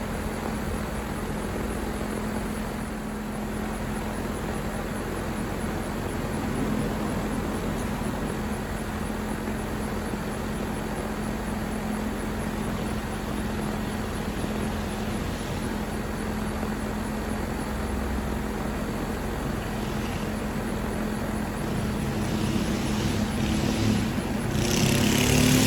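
A York air conditioner unit runs with a loud, steady broadband whoosh and a constant low hum, unchanging for the whole stretch.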